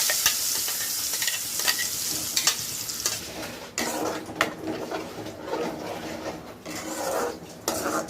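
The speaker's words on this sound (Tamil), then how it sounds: "இப்போ நம்ம அரைச்சி வச்சுருக்க அந்த பிரண்டையை ஆட் பண்ணிக்கலாம்." Ground pirandai paste is stirred and fried in a pan for chutney, with a steady close sizzle under repeated scraping strokes of a spoon against the pan and a few sharper clinks, and no talking.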